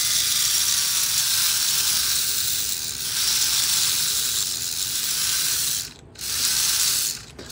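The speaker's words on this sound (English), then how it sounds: "Motor doesn't have a lot of torque." The small electric motor of a 1957 Athearn GP9 model locomotive runs with a steady, close, high whirring buzz and a ratcheting mechanical rattle. It cuts out briefly twice near the end.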